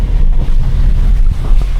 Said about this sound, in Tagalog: Marinig mo lang dito yung pagaspas ng ng ilog eh.